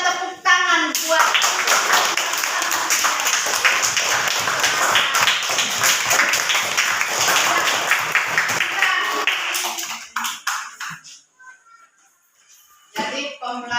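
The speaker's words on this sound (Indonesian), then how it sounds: "Ya, mari kita tepuk tangan buat" A classroom full of hands clapping together in sustained, lively applause that lasts several seconds, then tapers into scattered claps and a brief final burst.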